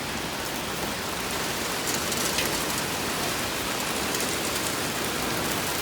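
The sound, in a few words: rain falling during a storm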